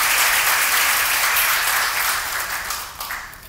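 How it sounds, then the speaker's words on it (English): A room of people at a business networking breakfast breaks into sustained applause for a new chamber member coordinator, a dense, continuous wash of clapping that slowly fades toward the end. "I really would like to ask for a round of applause"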